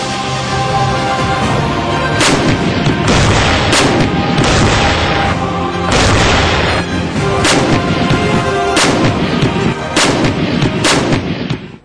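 India's Dhanush artillery gun, a Bofors-type howitzer, fires repeatedly, heavy booming blasts arriving in a run of several shots over a continuous loud roar, likely with dramatic music layered underneath.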